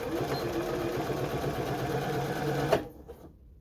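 A Janome JW8100 sewing machine stitches in a rapid, steady mechanical whir for under three seconds, then halts with a soft clunk and falls quiet.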